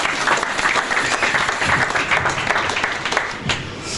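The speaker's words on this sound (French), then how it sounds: "Acclamez très fort." A church congregation applauds loudly and steadily throughout, a dense continuous clapping from a large crowd that fades slightly near the end.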